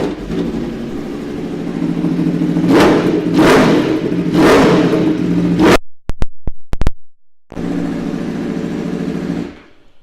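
A 2016 Aprilia Tuono V4 Factory 1100 motorcycle with 6,215 miles on it and an Ohlins rear shock runs close by. Its engine rumbles loudly with three sharp throttle blips, then gives a few thumps and a brief silence before settling back into a steady idle.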